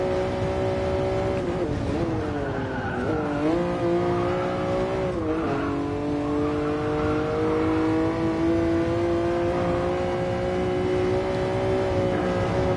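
A Jaguar XJ13 engine in Gran Turismo Sport VR on the Nordschleife howls steadily and close, its pitch climbing and dipping through gear changes and revs with no talk over it.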